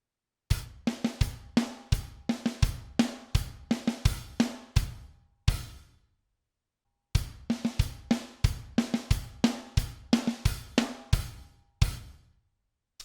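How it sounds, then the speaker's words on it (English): Drum kit playing a short blast beat with buzz strokes on the snare, two bursts of rapid sharp hits separated by a second of silence, close and dry. "The next section is like a little blast beat with, once again, those buzzers on the snare drum."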